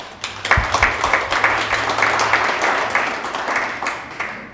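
An audience at a 2017 agreement signing ceremony applauds. The dense applause starts with a few sharp claps, swells quickly, then holds at a fairly loud level before slowly thinning out.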